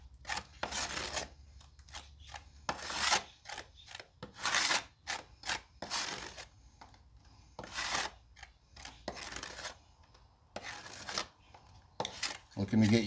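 Car paint being stirred together with hardener for a 1953 Ford hot rod, a series of scraping, rasping strokes in irregular bursts, close and fairly loud, with no talking over them.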